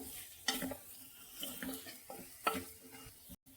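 Spices and turmeric frying in a pan for a cluster beans tomato curry, with a soft steady sizzle broken by a few scraping stirs of a spoon, fairly quiet and close.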